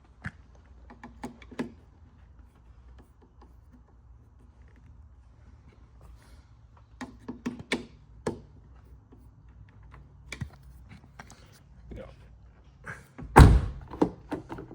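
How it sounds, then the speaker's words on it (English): Volkswagen Passat car door with broken door controls thumping shut once, a single loud slam near the end after quiet scattered clicks and handling sounds. "Door closed."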